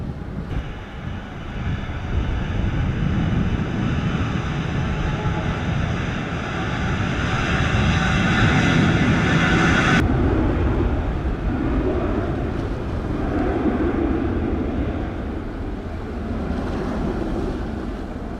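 Delta airliner taking off from runway 07 at Montego Bay, Jamaica: a loud, sustained jet engine roar with wind rumble, shifting in tone midway as it climbs away.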